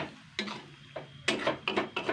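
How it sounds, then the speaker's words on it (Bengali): Kochu loti is stirred with tamarind in a pan, a series of sharp scraping clinks of a spoon against the metal spaced irregularly over a faint background sizzle, close and alone. "এবার আমি এটাকে কিন্তু ভালো করে নাড়াচাড়া করে নেবো তেঁতুলটা দিয়ে"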